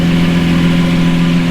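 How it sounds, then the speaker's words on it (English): A sports car engine runs with a loud, steady low drone and a strong humming tone, close by and unchanging over a brief moment. "Sorry for the lot of noises from this car"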